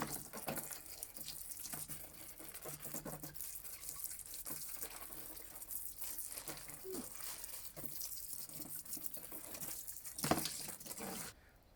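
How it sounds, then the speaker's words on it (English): Water rinsing over a Khan paintball mask, a steady close stream of splashing with crinkly handling noises and a brief louder burst near the end before stopping. "just cleaned it off with some water"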